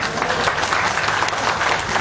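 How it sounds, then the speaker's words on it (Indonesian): Dense, sustained audience applause fills a gathering at Kenduri Cinta, a steady wash of many hands clapping at close range with no pauses and no voices rising above it. "tepuk tangan"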